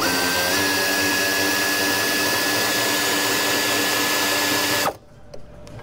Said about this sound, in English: I'm using this air ratchet right here.